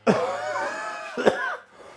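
A man coughs twice close to the microphone outdoors among bonsai trees, a harsh first burst followed by a second shorter cough about a second later, then quiet.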